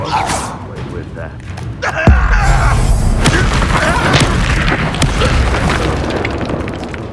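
A Confringo blast spell in Hogwarts Legacy erupts in one loud, close boom, then rumbling debris and crackling echoes over dense game noise and mechanical creaks.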